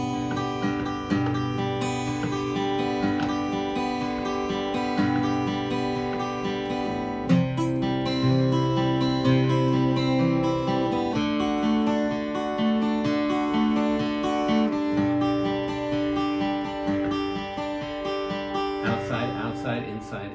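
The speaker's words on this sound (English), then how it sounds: "if you want to play around with Travis picking, it sounds really pretty" Ukulele played in a fast Travis-picking pattern alternating outside and inside strings, a bright, steady stream of plucked notes with a repeating rolling rhythm, close and fairly loud, carrying on throughout without talk.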